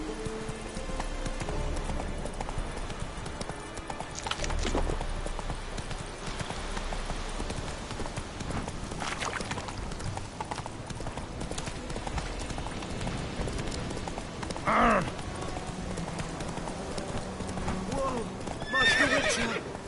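A horse in The Witcher video game trots and gallops with steady rhythmic hoof clops, neighing loudly a couple of times, with game voices speaking over the hoofbeats.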